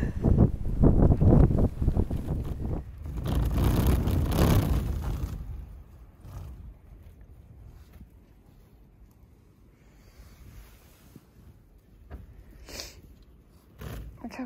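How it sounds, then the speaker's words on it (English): Strong wind blusters at a campsite on the Continental Divide Trail while a tent is being set up, loud buffeting gusts for the first five seconds, then a lower steady rush with occasional flaps and rustles. "Getting my tent set up in the wind"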